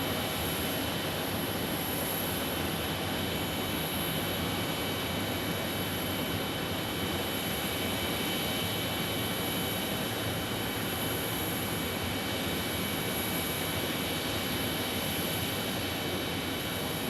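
An airliner arriving from Kansas City at Phoenix Sky Harbor gives a steady, moderately loud broadband jet roar with a high whine on top, holding evenly throughout with no talking.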